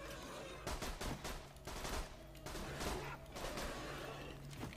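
Rapid gunfire in the Borderlands 2 video game comes as bursts of automatic shots in quick succession, close and dense, over a faint game background.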